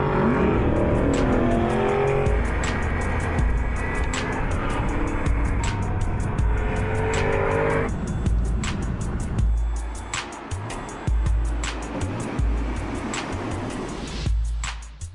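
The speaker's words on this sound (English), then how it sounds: "the sport button speeds up the engine response and gear changes, which helps to make more noise" An Aston Martin V8 Vantage S sports car engine revs hard in sport mode, loud and close, with rising and falling throttle blips, gear changes and a brief tire squeal over about fifteen seconds.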